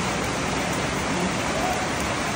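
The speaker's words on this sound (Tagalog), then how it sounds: "Lumakas na yung ulan." Steady, dense rain pours down, a continuous broadband hiss of drops drumming on surfaces, with no other sounds.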